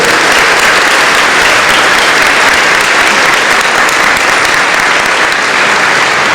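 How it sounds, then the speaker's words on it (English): A large crowd applauds loudly and continuously at a 2017 student convocation, dense clapping filling the whole stretch without pause. "Can we please have a round of applause for everybody"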